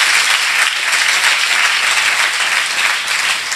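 A church congregation applauds in a steady, dense burst of clapping, loud and close, with no talk over it.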